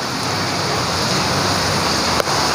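Heavy rain pours at Universal Studios Singapore, a dense, steady hiss of rainfall close by with a brief knock near the end and no voices.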